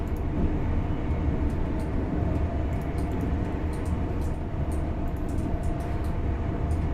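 Inside a passenger train in a train simulator game, a constant low rumble of running gear fills the scene with faint high clicks, steady and unbroken, with no talk.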